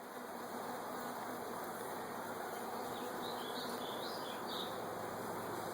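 Bees buzz in a constant, dense hum around a beehive in the Pacific Northwest, with a few nearer individual bees droning briefly close by over the steady swarm sound.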